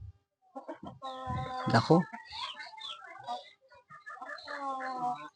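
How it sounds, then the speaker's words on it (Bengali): Backyard chickens, a big rooster and an egg-laying hen, cluck in a short burst of close, loud calls, with a person talking over and between them. "এটা কিন্তু মোরগ বড়।"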